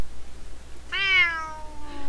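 A cat gives a single clear meow, rising then gently falling and trailing off, close by against a quiet background.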